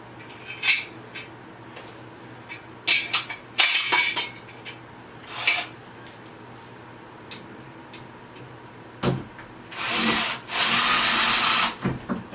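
A power drill drives screws while a Mainstays Alexandra three-piece patio set is assembled. Scattered clicks and clatter of handling parts are followed near the end by two sustained whirring drill bursts, with no talking.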